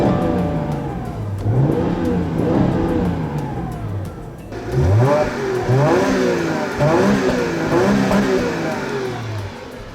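Engine of a 2015 Chrysler 200S revving through fluted exhausts, rising in repeated bursts that grow louder and busier in the second half, near and alone.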